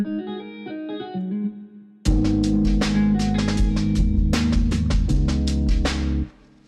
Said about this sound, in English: And then I'm stacking it with a Fender Twin